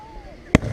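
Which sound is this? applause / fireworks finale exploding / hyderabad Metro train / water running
fireworks finale exploding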